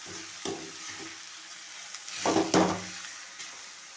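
Beaten eggs being stirred into drumstick leaves (moringa greens) in a pan, giving soft scraping strokes with a few louder clusters and a light sizzle, nearby and without talk.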